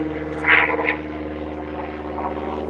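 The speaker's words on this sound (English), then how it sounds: "There's an airplane going over." An airplane passing overhead above a backyard, a faint steady engine drone with tonal hum, joined by a brief louder rise of other backyard sound near the start.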